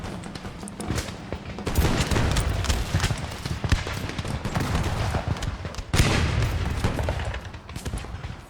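Dense gunfire rattles through a fort assault in a video game, continuous overlapping musket and rifle shots with occasional louder booms, loud and busy throughout.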